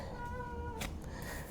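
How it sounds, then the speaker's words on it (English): A little cat gives a couple of short, soft meows close by in a quiet indoor room, with faint background hum. "little cat coming here"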